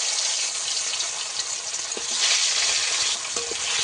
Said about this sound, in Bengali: অল্প অল্প করে মাছ দিয়ে ভাজবো।